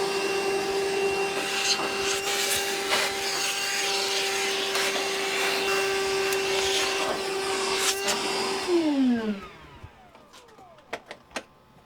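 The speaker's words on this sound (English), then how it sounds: "we're just going to go in with a vacuum to clean it all up" A duct-cleaning vacuum roars steadily and loudly with a constant whine for about nine seconds while sucking debris from around the air blower wheel, then winds down with a falling pitch, followed by a few scattered clicks and knocks.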